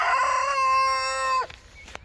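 A chicken from a backyard flock of Rhode Island Reds, Barred Rocks and Columbian Rocks gives one loud, close crowing call that lasts over a second and cuts off sharply, followed by quiet clucks.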